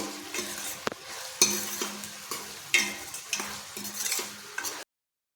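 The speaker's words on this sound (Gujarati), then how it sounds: "तो हवे आपणे मिक्स करी लईशुं बधुं ज" Spoon stirring a pot of mung bean curry with freshly grated ginger, repeated scraping strokes in an irregular rhythm over a light sizzle, close and fairly quiet, no talking.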